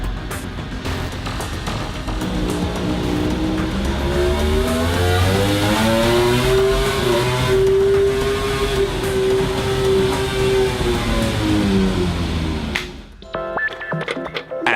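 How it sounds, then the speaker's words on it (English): A Suzuki MotoGP racing engine runs on a laboratory durability test rig, a loud steady roar whose pitch climbs, holds high and then eases down over about twelve seconds before cutting off abruptly, with no talking. "At the laboratory, they are testing the durability of the engine."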